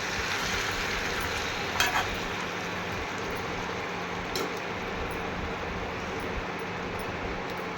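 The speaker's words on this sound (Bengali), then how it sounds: "একটু নুন দিয়ে আর একটু নাড়াচাড়া করে" Food fries in a pan with salt while being stirred: a steady, close hiss of sizzling with a couple of brief scraping knocks from the stirring.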